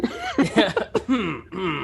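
A few harsh, throaty coughs in quick bursts, close by, mixed with voiced sputtering that sounds partly like a chuckle.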